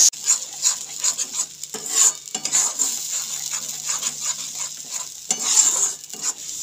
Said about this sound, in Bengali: এখন দিয়ে দিচ্ছি ওই তেলের মধ্যে বেটে রাখা মশলাটা।